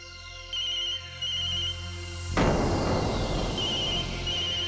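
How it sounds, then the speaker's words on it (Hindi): A phone ringtone plays a repeating electronic melody in short bursts, then a loud rushing noise cuts in partway through while the tone continues. "फोन आ गया मेरा।"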